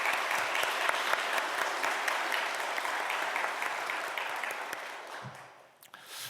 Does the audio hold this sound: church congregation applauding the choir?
yes